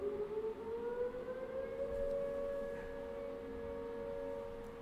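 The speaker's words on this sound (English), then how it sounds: "They're testing the tornado sirens here in Tulsa." Tornado warning sirens being tested in Tulsa wail from a distance, sustained tones slowly rising and holding steady, faint but clear with no one talking.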